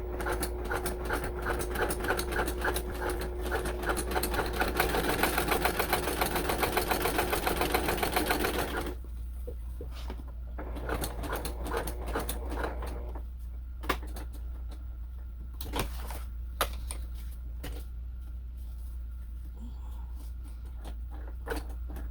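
A sewing machine stitches close by in a rapid, even mechanical chatter for several seconds, then stops, followed by quieter clicks and handling noises.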